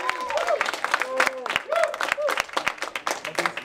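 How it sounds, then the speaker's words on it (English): A school film festival audience claps for a young filmmaker, with brisk, dense applause and voices calling out over it throughout. "Give him a round of applause."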